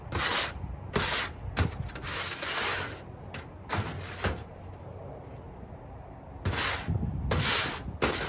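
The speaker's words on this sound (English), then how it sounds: "Just scrape up the ash." Ash is scraped up from the bottom of a roasting box used for a whole pig: repeated rough, rasping scrapes in bursts, some long and some short, close by and moderately loud, with quieter pauses between strokes.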